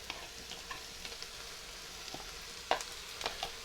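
Faint steady sizzle of ground meat and onions frying in a pot for mushroom cheeseburger soup, with soft scrapes and clicks of a spoon stirring, quiet and close.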